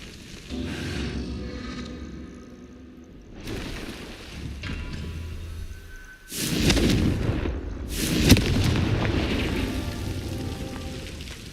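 Confringo fire spells burst in Hogwarts Legacy: a series of rumbling, crackling explosions builds over several seconds, ending in a loud cluster of booms with a sharp crack, amid steady game noise and no speech.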